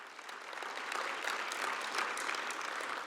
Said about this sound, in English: I want to applaud his effort.